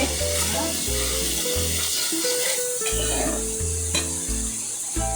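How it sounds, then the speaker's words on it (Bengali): Spice masala fries in oil in a pan for a prawn and vegetable curry, giving a steady loud sizzle with stirring throughout, under background music. "আমার মশলাটা একদম তেলে পুড়ে উঠে গেছে"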